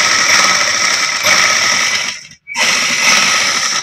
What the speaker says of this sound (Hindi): हुण डबल सिलाई लाउणे आ